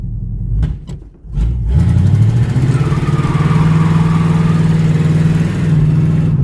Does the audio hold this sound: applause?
no